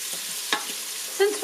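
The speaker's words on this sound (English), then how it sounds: "Now I'll add my onion and green chilies" Onions and green chilies hitting hot oil with whole spices in a Crock-Pot Express multi-cooker, a soft sizzle with brief stirring scrapes and a short clatter near the end.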